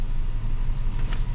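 A Toyota engine idling, a steady low rumble close by, brief and even with no talk.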